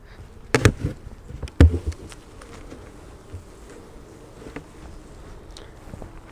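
Honey bees crowd the top of the frames in an open, weak hive, a steady close low hum with a couple of sharp knocks near the start and fainter taps later.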